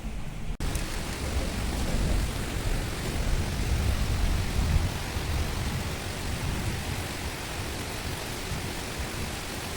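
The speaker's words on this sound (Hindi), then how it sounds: "इतनी हैवी रेन हो रही है, इतनी ज़्यादा बारिश हो रही है" Heavy rain pours steadily at night in Himachal during landslide-causing weather, a dense continuous roar of broadband hiss with no voices, loud and unbroken throughout.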